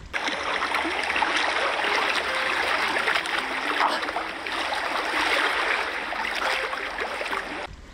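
A shallow mountain stream in the dry season, running only about knee deep, gives a continuous close babbling rush of water over rocks with no voices.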